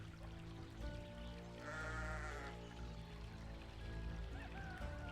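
Sheep bleating in the Caverna digital board game, a clear bleat rising for about a second mid-clip over steady game background music.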